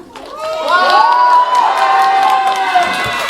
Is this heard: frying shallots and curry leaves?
no